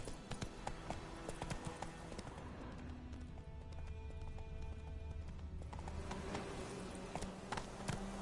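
Roach the horse galloping in The Witcher 3, a steady rapid clip-clop of hooves continuing throughout, with a faint ambient game backdrop and no voices.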